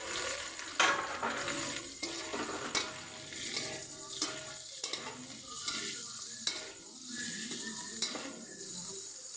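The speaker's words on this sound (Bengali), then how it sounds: "দেখুন তেল গরম হয়ে আছে, আমি এখানে ক্যাপসিকামগুলো দিয়ে দিলাম, চেরা লঙ্কা দিয়ে দিলাম" Capsicum, slit green chillies and onions fry in hot oil for chilli paneer. A faint, steady sizzle runs under repeated scrapes and clatters of a spatula against the pan.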